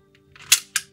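Vintage 1974 Hasbro Ghost Gun toy firing, with two sharp mechanical snaps about a quarter second apart after a faint lead-in click, close and crisp with no voices.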